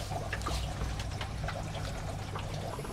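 Water from an aquarium filter on a 200x80x60 freshwater tank trickles and pours in a continuous, fairly quiet stream, with a low steady hum underneath and no talking.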